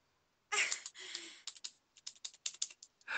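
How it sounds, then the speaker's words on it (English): Computer keyboard typing, close and fairly quiet: a quick burst of keystrokes, then irregular clusters of taps and clicks with short pauses between them. "I can hear you tickety typing."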